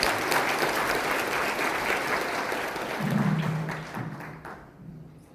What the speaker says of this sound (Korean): 지사님을 큰 박수로 모십니다.